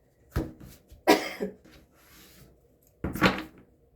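Several dry, sharp coughs close to the listener, in short bursts separated by brief pauses.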